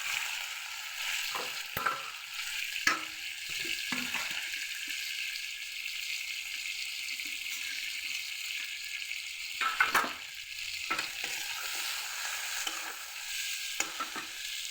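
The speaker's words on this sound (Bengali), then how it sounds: "মশলাটা কষানো হয়ে গেছে। এবার ভেজে রাখা মাথাটা দিয়ে দেবো।" Fried fish head goes into a frying spice masala and is stirred, giving a steady close sizzle with scraping stir strokes and a few sharper clatters.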